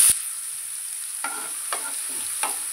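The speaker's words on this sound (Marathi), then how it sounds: "तेलात छान फ्राय झालं की आपण बारीक चिरलेला टोमॅटो टाकायचा आहे." Ginger-garlic paste with mustard seeds frying in oil for a restaurant-style masala okra dish: a steady soft sizzle with a few light stirring scrapes, close and fairly quiet, with no talking.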